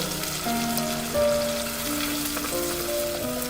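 A ginger, tomato and green chilli paste fries in hot oil, giving a steady close sizzle that runs without a break, with soft stirring and a sustained tonal hum above it.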